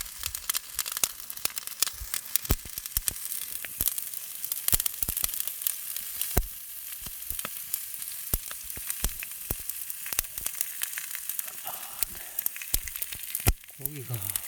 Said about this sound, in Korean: 아따, 소금 터는 소리가